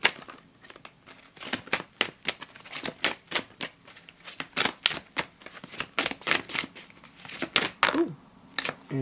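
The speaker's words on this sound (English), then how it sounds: "Let me shuffle it this way, because I'm gonna get a good shuffle." Tarot cards are shuffled close up, with repeated quick riffling bursts and papery snaps in an uneven rhythm and short pauses between them.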